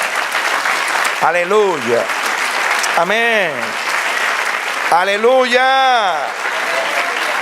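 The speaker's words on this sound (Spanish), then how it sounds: "Denle aplauso al Señor." A church congregation applauds continuously while a voice calls out loudly and melodically over the clapping several times.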